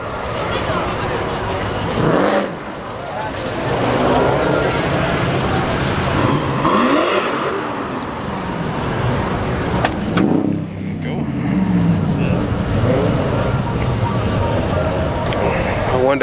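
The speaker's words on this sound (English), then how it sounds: "There's a lot of nice cars out here." Car engines rumble and rev repeatedly nearby at a car meet, rising and falling in loud surges against general crowd and traffic noise.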